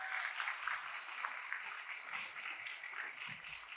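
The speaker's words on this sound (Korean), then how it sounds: "박수 한번 맞아주십시오." A church congregation applauds steadily, a soft, dense patter of many hands clapping at a distance that carries on without a break.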